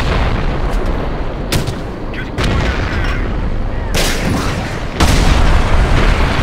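Artillery blasts and gunfire rumble in the modern-warfare video game Company of Heroes, a dense loud barrage with several sharp booming impacts over constant battle noise.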